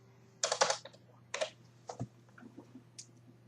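Keys clatter on a computer keyboard in short bursts of typing, close and clear against a faint steady hum, with pauses between clusters of strokes.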